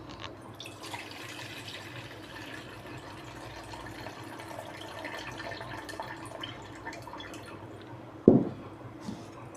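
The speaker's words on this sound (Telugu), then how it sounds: "ఈ వాటర్ వంపేసుకోవాలి." Water poured off overnight-soaked little millet in a kitchen, a steady soft trickle and drip running for several seconds, ending in a brief louder splash near the close.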